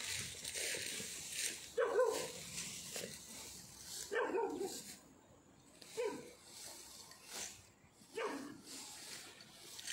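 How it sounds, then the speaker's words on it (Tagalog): Dog barking outdoors beside a river, several sharp barks at irregular intervals every couple of seconds, moderately distant, over steady background noise. "Yung aso tahol ng tahol."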